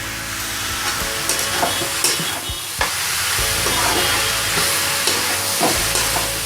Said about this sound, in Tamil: ஒரு 5 நிமிஷம் நல்லா அப்படியே இதுலேயே எண்ணெயிலே நல்லா வேகட்டும்